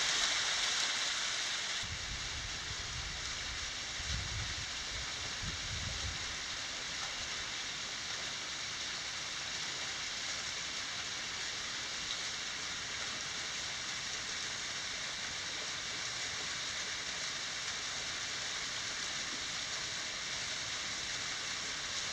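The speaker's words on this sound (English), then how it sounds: "A Death Valley waterfall." Waterfall at the end of Willow Creek Canyon in Death Valley, a steady broadband rush of falling water heard close and alone, with a brief lower rumble near the start.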